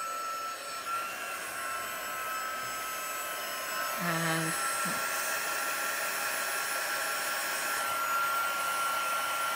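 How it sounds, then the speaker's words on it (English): A heat embossing gun blows hot air over a card with a steady, rushing whirr, moderately loud and continuous, with a brief tonal wobble partway through and no talking. "And now I'm going to heat emboss, so I do apologise for the noise."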